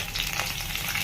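Garlic cloves, dried red chillies and curry leaves fry in hot oil in a pan, giving a steady, close, continuous sizzle and crackle that holds at an even level throughout.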